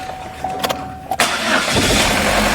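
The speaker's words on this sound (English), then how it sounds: "engine starts, one kick." A Chevrolet Cruze engine cranks and catches on the first try after a brief starter whir, then settles into a steady, loud idle close by.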